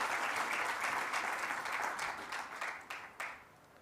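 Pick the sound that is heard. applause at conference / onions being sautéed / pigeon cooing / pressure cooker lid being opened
applause at conference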